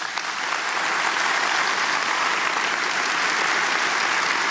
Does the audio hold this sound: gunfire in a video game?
no